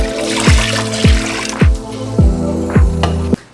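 Liquid aminos pour from a bottle into a pot in a rhythmic glugging, about six loud, close gulps in a steady beat, each falling in pitch, before the flow cuts off abruptly.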